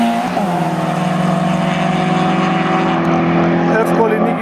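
Peugeot Saxo and another car drag racing off the start line, engines revving hard in a loud, sustained roar with rising tone, an announcer speaking over the noise.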